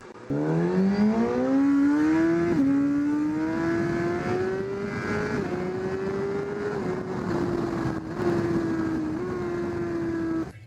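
A 2019 Suzuki GSX-R 1000 sport motorcycle with variable valve timing, rated at 201 horsepower, revs loudly and steadily, its engine note climbing through the opening seconds and then holding high with brief dips as gears shift.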